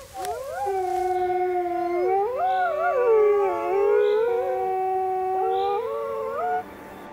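Wild wolf pups in Poland howl and whimper together in a rising, overlapping chorus of wavering tones, fairly close and steady for about seven seconds.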